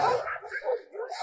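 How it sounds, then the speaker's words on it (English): A pack of dogs attacks a snow leopard in Tibet, China, heard as overlapping excited barks, yips and whimpers, loud and continuous through the short stretch. "you can see dogs chasing a snow leopard"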